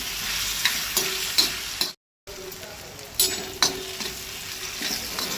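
Tomato and onion frying together in a pan for a Goan jackfruit seed bhaji, with a steady close sizzle and occasional stirring scrapes, interrupted briefly by a moment of silence.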